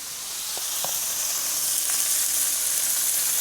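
Butter sizzling in a hot pan for a surf and turf dinner, a dense, bright hiss that swells in the first second then holds steady and loud, with a couple of faint clicks early on.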